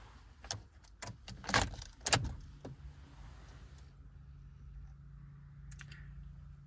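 A Fiat Egea 2023 remote car key is handled, giving a quick run of light metallic clinks and jangles near the listener, then settling into a quiet low hum.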